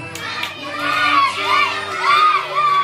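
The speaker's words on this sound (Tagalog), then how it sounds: "Kids, sing with us." A group of children at a seventh birthday party sing together loudly in a lively, slightly shouty chorus, close and filling the room.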